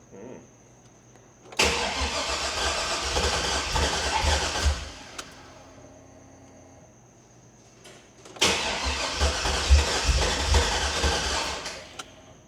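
LS-swapped car engine cranking and catching for its first start, two bursts of loud rough running separated by a pause, each lasting about three seconds before cutting out.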